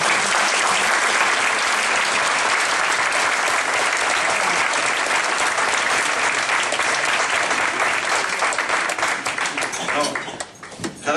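A big gala crowd claps in a sustained, loud wall of applause, many hands blending into a steady roar that thins and breaks into scattered claps near the end.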